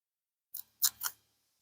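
A Skyraider Banshee knife push-cuts through tough material in three quick, crisp slicing snips, close and clear against silence.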